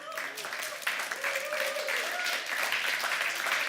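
Audience applause for Steffi Czerny at a contemporary art talk on Germany and sculpture. The clapping is steady, dense and mid-distance, rising slightly and then holding. A voice or tonal sound runs faintly through it.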